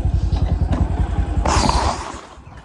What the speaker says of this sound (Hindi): बस यहीं पे रखो बाइक।